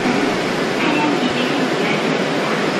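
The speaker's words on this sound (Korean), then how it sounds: "1호선 마지막 열차가 종착역에 멈춰섰습니다." A Daegu metro Line 1 train rumbles steadily on the rails at night with a constant broadband roar and hiss, heard from close by without clear braking or a full stop.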